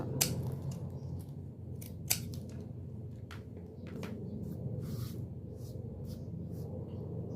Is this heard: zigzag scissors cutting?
yes